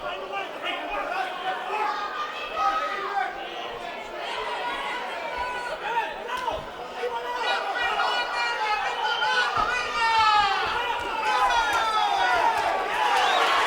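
A boxing crowd at a Dewayne Beamon vs Angel Ramos bout cheers and rises as Ramos lands a series of hooks in the final round, a loud, dense roar of chatter and shouts that swells toward the end.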